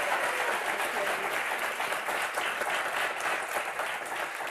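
Studio audience on a French game show applauding steadily for the four contestants, a dense continuous wash of clapping filling the whole stretch at even loudness.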